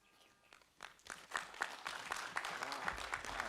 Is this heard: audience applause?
yes